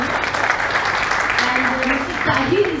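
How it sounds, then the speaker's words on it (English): Audience applause for a speaker at a FATCA CRS tax seminar, a dense steady clapping from a crowd that fills the whole stretch, with a voice faintly over it near the end. "Please, round of applause."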